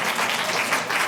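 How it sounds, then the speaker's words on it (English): An audience at a city council meeting breaks into applause, a steady, moderately loud patter of many hands clapping throughout the brief moment. "please don't applaud"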